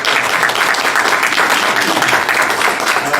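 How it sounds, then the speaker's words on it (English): At a regular session of a mayor and city council, the room gives a round of applause, a continuous even wash of many hands clapping throughout. "let's give them a round of applause"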